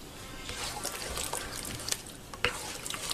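A spoon stirs sausage gravy in a pan just after eggs go in, a soft, faint scraping and wet churning with a few small clicks, steady throughout.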